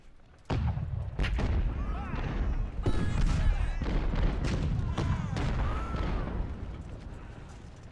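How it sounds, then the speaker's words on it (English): Howitzer artillery fires in the Civil War strategy game Ultimate General Civil War at Cold Harbor, with a string of heavy booms and rolling blasts over several seconds while someone talks over them. "This is my artillery firing."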